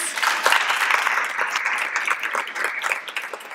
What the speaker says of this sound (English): So, round of applause to the audience.